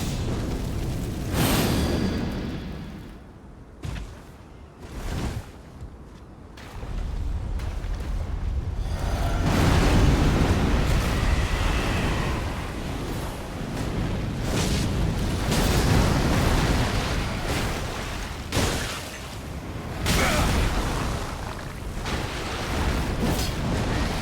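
A deep roaring blast rumbles through a long stretch of Elden Ring combat at Stormveil Castle, loud and sustained, with sharper impacts and bursts before and after it and no voices.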